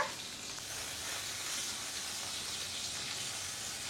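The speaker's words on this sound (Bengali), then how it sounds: "মাছটা কিন্তু কড়া ভাজা দেব না" Fish frying lightly in a pan for a Bengali home-cooked meal, giving a steady, even sizzle with a bright hiss that holds throughout at moderate loudness, with no talking.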